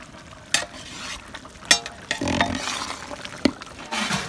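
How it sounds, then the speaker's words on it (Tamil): Beef for a tapioca biriyani cooks in a pot while being stirred, a sizzling hiss punctuated by repeated scraping and clinking strokes of the spoon against the metal. "நம்ம இறைச்சியை லேசாக கிளறி கொடுத்துடுவோம்."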